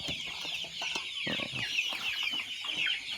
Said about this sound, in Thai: ประมาณ4ี่โมงเนี่ยมันจะเริ่มร้องกันแล้วไอ้พวกไก่โตนะครับ